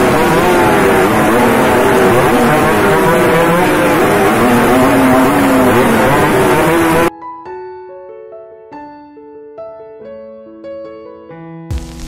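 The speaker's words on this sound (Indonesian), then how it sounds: "Biasanya suara knalpot motor yang dari pabrikan bersuara anteng, kecil. Namun apa jadinya bila diganti dengan megaphone?" A motorcycle fitted with an aftermarket megaphone exhaust revs loudly and roughly for about seven seconds, then cuts off and gives way to music.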